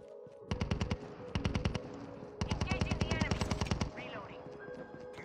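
Automatic weapons in Call of Duty fire in two rapid bursts, each a sharp, evenly spaced string of close, loud shots separated by a short pause, with faint player voices underneath.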